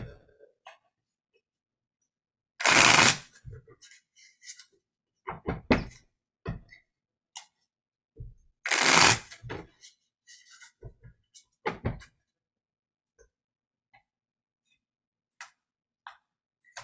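Tarot cards being shuffled in two loud riffling bursts, with scattered taps and soft thumps of cards being handled and laid down between them.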